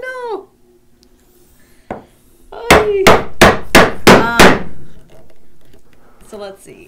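A wooden mallet strikes a chisel about six times in quick, even succession while a blind wedged mortise is cut in a workshop, the sharp knocks loud and close, with a voice talking briefly before and after.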